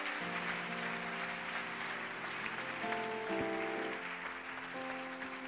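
A church congregation applauds in a dense, sustained wash of clapping that fills the whole stretch, loud and close, with a sustained musical tone underneath and no clear talking.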